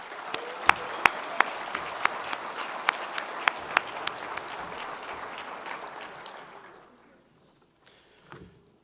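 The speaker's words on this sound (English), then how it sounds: "Please join me in giving a welcome round of applause for our special guests." Audience applause welcoming special guests at a real estate challenge night event, steady clapping with several sharp individual claps standing out, fading out after about seven seconds.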